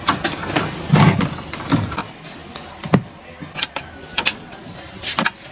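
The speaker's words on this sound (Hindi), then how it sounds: "यहाँ भी हम बोल्ट को लूज करेंगे और मोटर को थोड़ा सा आगे की तरफ धक्का देंगे।" A wrench loosening the motor bolts on a washing machine while the motor is pushed forward, heard as close metallic clicks, ratcheting and scraping knocks in irregular bursts, with occasional thumps of the machine's body.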